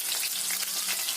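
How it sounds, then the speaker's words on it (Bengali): Onions hit hot oil after fried catla fish head pieces, giving a brief, steady, close hiss of sizzling with no talking. "তারপরে পেঁয়াজ দিলাম।"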